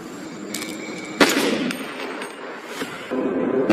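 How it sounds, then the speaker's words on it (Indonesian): A single gunshot rings out in a crime film scene about a sniper targeting corrupt officials. It is a sharp, loud blast that stands out over a dense background score, with no one talking. "Ternyata Miguel sengaja menembak anaknya Gomez dengan tujuan membuatnya jera."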